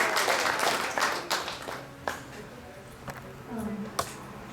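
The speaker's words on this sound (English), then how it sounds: "Let's give her a big round of applause." Small audience at a Sunday temple festival clapping, a burst of applause that thins to scattered claps, with talking heard under it.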